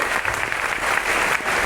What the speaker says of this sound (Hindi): और एक बार जोरदार तालियां आप सभी लोगों को चाहूंगी